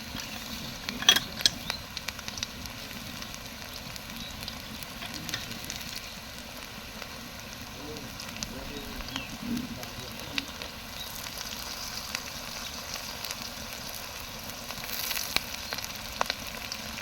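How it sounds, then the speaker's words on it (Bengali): Onions frying in a pan on a home stove give a soft, steady sizzle, with occasional light clicks and stirring scrapes throughout, fairly quiet and close with no talk. "তো এই যে পেঁয়াজটা লাল লাল করে ভেজে নিছে, এখন দিয়ে দিবে"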